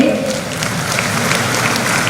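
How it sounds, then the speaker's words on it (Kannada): Broad, even applause from a large audience at a Dasara darbar gathering, a continuous rain-like wash of many hands clapping at steady loudness. "ಅವರ ಉಪನ್ಯಾಸಕ್ಕಾಗಿ ನಿಮ್ಮ ಜೋರಾದ ಚಪ್ಪಾಳೆ ಬರಲಿ"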